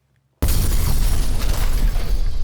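An explosion from the action film Haywire bursts in suddenly after a short silence, then a loud, dense roar with deep low rumble and crackling debris sustains to the end.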